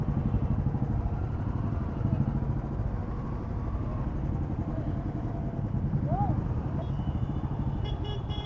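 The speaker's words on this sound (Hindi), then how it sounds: "अभी हमारी राइड हो चुकी है स्टार्ट और सभी राइडर्स निकल गए हैं" Motorcycles leave one after another at the start of a big group ride on Independence Day, a dense engine rumble with horn toots over it and crowd voices throughout.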